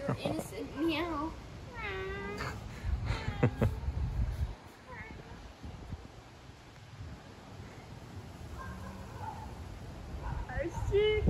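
A neighborhood cat meows several times close by, rising and falling cries mixed with a person talking and imitating meows, over some rustling background noise.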